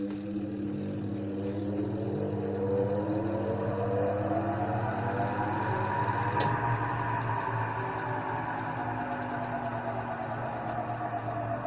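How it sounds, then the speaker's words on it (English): An automatic washing machine converted to manual operation runs in spin mode, a loud continuous motor drone with rising and falling whine tones and a steady hum throughout. "It's on spin mode now"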